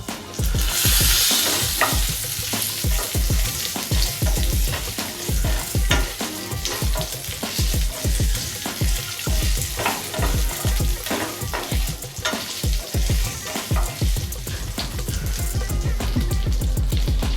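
Potato pieces fry in hot oil with curry leaves in a pan for a pumpkin vegetable dish, a steady loud sizzle broken by rapid repeated scraping stirs of a spatula throughout.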